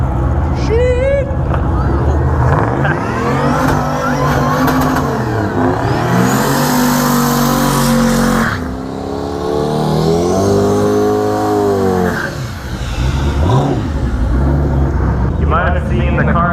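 An RX-7 and a turbo LS car rev and launch in a no-prep drag race, with engines roaring loudly and rising through gears, shifting pitch as they pass, while a voice talks over the noise.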